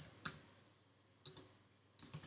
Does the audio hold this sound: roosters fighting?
no